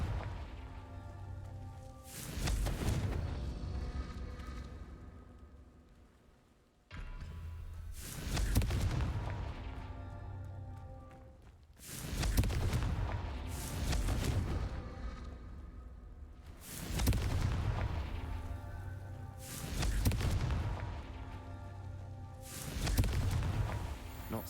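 Repeated fire-spell blasts from Hogwarts Legacy, five booming explosions spaced about every five seconds, each a sharp loud burst trailing into a rumbling decay.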